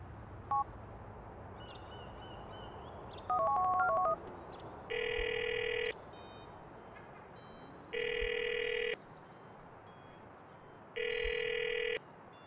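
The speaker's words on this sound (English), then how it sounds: "You've got to call him and keep a lookout for someone answering a phone." Phone ringing in Grand Theft Auto 4: a short dialing tone sequence, then three evenly spaced electronic rings, each about a second long, clear and alone with no talk.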